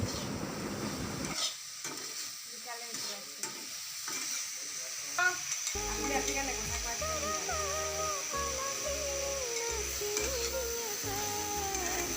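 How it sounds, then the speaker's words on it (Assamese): A vegetarian vegetable curry is stirred in a pan, giving close scraping and stirring noises over a soft sizzle, with a low hum and steady clatter continuing toward the end, and no talking. "আৰু এনেদৰে ভালদৰে লৰাই ঢাকন মাৰি দিম।"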